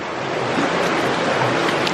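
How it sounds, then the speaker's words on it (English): A person wades fully into a river in Sagada in the Philippines, with a dense, steady rush of moving water and splashing close by, filling the whole moment without speech. "I've given up trying to cross it, and now I'm just going fully into the water."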